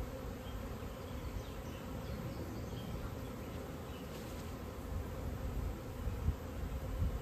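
A honeybee swarm hums in a dense, continuous drone that stays steady and close, swelling slightly toward the end with no voices over it.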